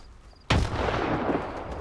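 A single loud grenade blast in the shooter game S.T.A.L.K.E.R. 2 bursts in suddenly after a quiet moment, then rolls on as a long, heavy rumble that slowly fades.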